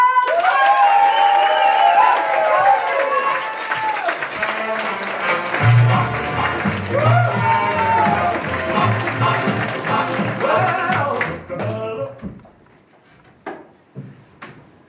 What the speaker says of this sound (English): we're going to do one last huge big round of applause and bring our last act on